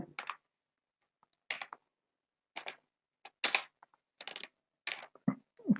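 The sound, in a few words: typing text on a computer keyboard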